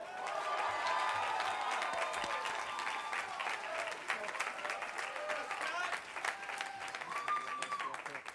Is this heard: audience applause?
yes